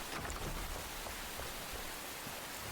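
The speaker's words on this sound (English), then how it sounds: "you're gonna listen to the wonderful sounds of rain." Steady rainfall in the video game Enshrouded, a dense, continuous hiss of drops with a soft low rumble underneath, even and unbroken with no voices.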